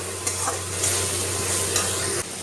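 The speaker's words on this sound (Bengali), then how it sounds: "এইবার মশলাটাকে ভালো করে 1 মিনিট মতন কষিয়ে নেব।" Spice paste sautés in a hot pan with a dense, continuous sizzle, while a spoon stirs it in a few soft scraping strokes close by.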